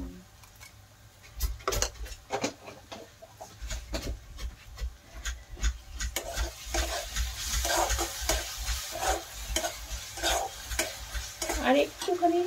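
Roti noodles with tomato ketchup fry in a pan while being stirred, a soft steady sizzle under repeated scraping and clinking of the utensil against the pan, close and moderately quiet.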